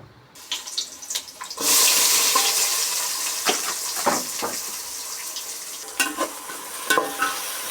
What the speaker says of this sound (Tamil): வெங்காயம் கோல்டு ப்ரௌன் வர அளவுக்கு நம்ம வதக்கிக்கலாம்.